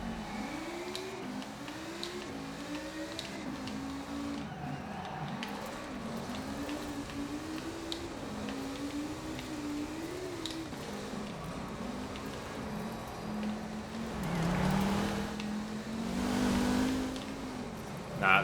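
Race car engine in the K74 Rivals game, an S1 class car on the Cliffside Scramble course at Fortune Island, revving and shifting steadily throughout, swelling louder near the end, with no talk.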